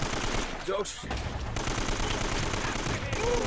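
Rapid bursts of gunfire from the video game Uncharted: Drake's Fortune rattle through a shooting section, with steady game noise and a few brief voice-like sounds mixed in.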